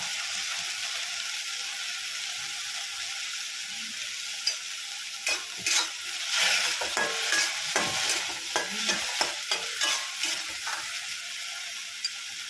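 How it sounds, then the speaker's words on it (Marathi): Moth beans (matki) sizzle steadily in hot oil while a spatula stirs and scrapes the pan in a run of irregular knocks, close and clear with no voices. "ती थोडी छान अशी तेलावर परतून घेणार आहोत।"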